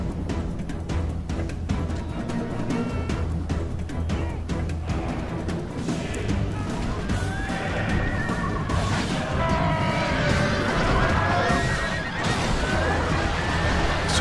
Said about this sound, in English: they are actually doing a pretty good job of pulling those horses down to their level and shredding them.